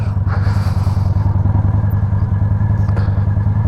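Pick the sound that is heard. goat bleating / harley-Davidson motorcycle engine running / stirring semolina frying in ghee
harley-Davidson motorcycle engine running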